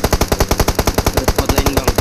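Rapid automatic gunfire from a shooter video game, PUBG Mobile, about fifteen evenly spaced sharp shots in a two-second burst, loud and close with no talk.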